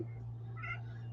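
A mother cat calls softly for her kittens indoors, one short muffled meow over a steady low electrical hum.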